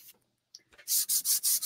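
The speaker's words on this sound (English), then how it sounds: "I am sanding down here. I know you can't see me. I'm sanding. You can hear it." Wood is sanded by hand for a patriotic DIY door hanger: after a quiet start with a few small knocks, four close, even scraping strokes rasp in a steady rhythm, with no talking.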